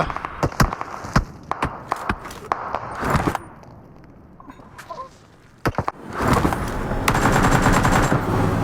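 A P90 submachine gun in PUBG Mobile fires in rapid bursts, sharp loud cracks in quick runs with a brief lull midway, then heavy sustained fire returns toward the end.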